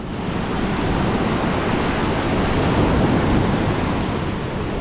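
Large sea waves crash and roar steadily during spin fishing for bluefish, mixed with wind buffeting the microphone. The broad rushing noise continues without a break.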